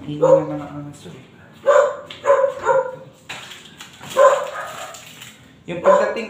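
Dogs bark at a house in a series of sharp, close yips and woofs that come in clusters with short pauses between them.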